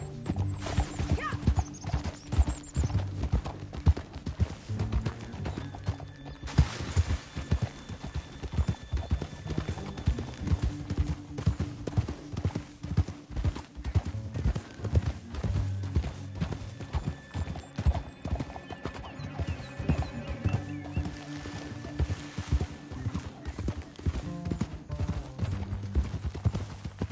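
Horse hooves clip-clop in a steady galloping rhythm throughout a Western-style PlayStation 4 video game, with occasional whinnies, loud and close over a low musical score.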